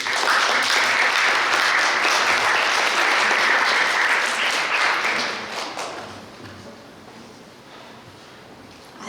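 Audience applause welcoming a speaker at a free-speech event for deafblind people, a loud, steady wash of many clapping hands that holds for several seconds and then fades away into quiet room tone.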